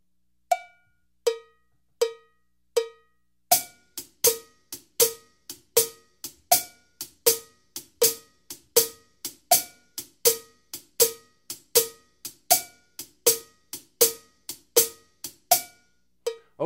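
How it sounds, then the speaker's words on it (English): A standard blues shuffle groove with quarter notes accented by the shoulder of the stick on the side of the cymbal, hi-hat and tip strikes on the last triplet, steady bright swinging hits heard close and alone. "I like to take quarter notes, accent them with the shoulder of the stick into the side of the cymbal like this"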